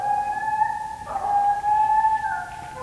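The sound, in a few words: hunting dog baying while treeing a raccoon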